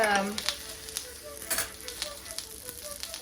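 Butter sizzles and crackles in a hot frying pan, with a busy hiss and a few brief clinks and scrapes, no voices.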